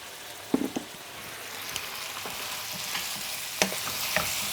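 Big chunks of bottle gourd frying in a pan with mustard, ginger, garlic and onion, giving a steady crackling sizzle broken by several sharp spoon scrapes and clinks, close by, with no voices.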